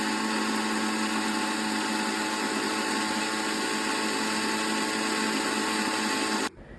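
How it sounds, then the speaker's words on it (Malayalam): A kitchen mixer-grinder blends a smoothie with a loud, steady motor whine and a dense buzzing hum that runs unbroken, then cuts off abruptly just before the end. No talking. "അങ്ങനെ നമ്മൾ മിക്സിയിൽ അടിക്കാൻ പോകും."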